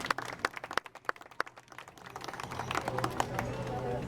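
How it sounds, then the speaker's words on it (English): Scattered handclaps from an audience at a show on a cruise, a burst of uneven close claps that thins out, then fades into a low murmur of crowd noise. "Well, we say clap, clap,"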